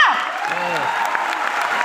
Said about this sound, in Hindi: बता सकते हो तालियां।